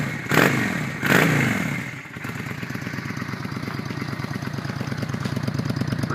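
A stock 2007 Honda Shadow 600 motorcycle engine gives two quick revving bursts, then settles into a steady, evenly pulsing idle at close range.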